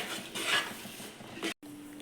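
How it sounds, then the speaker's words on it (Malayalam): A spoon stirs and scrapes through thick jackfruit halwa in a pan, with a few close metallic scrapes and knocks and a brief gap near the end, without speech. "നന്നായിട്ടൊന്ന് ഇളക്കി കൊടുക്കുക"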